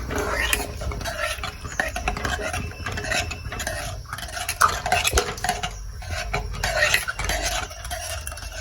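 A spoon stirs rice and urad dal porridge with coconut milk in a pot, Sri Lankan style, making repeated close scraping and clinking strokes in a steady, busy rhythm.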